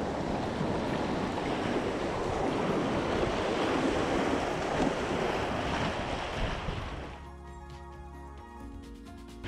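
Rushing water of a white-water river rapid roars broad and steady for about seven seconds, then drops away abruptly to a quieter tonal background near the end.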